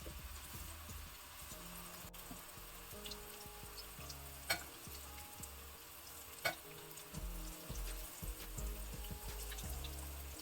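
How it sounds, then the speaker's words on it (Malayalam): Steady soft sizzling of motichoor laddu patties frying in hot ghee on low heat, continuous and fairly quiet, with a couple of faint utensil clicks. "നെയ്യ് ചൂടായ ശേഷം നമുക്ക് ഈ പാറ്റീസിനെയൊക്കെ നന്നായിട്ട് ചെറുതീയിൽ വറുത്ത് കോരിയെടുക്കാം"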